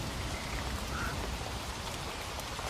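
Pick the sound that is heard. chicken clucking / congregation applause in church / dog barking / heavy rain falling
heavy rain falling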